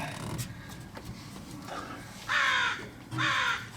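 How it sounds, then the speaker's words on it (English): Crows caw near an outdoor truck repair spot, two loud harsh bursts late on that stand out clearly over quieter background noise and a little talk. "Apparently the crows want to be the star of the"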